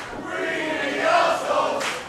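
A wrestling crowd cheers and roars in a garage venue at an ATTACK! Pro Wrestling show, a dense surge of voices that swells to a peak mid-way and then eases, with shouts rising above the mass.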